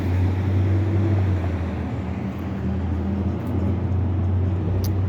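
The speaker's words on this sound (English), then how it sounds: "I'm outside, so you hear trucks and stuff. It's loud." Steady, loud traffic rumble from trucks and other vehicles passing outdoors, a continuous low drone with no pauses and no voices.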